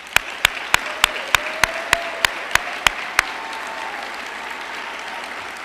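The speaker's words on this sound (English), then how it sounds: "Please join me in giving our faculty and staff a round of applause." A commencement ceremony crowd at the Clinton School of Public Service applauds faculty and staff, with one sharp, evenly paced clapper standing out close up over a softer, steady background of applause.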